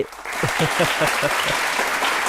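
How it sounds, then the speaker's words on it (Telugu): Studio audience applauding at a televised courtroom-style interview show, a steady roar of clapping lasting a couple of seconds while a voice carries on over it. "చప్పట్లు కొట్టండి."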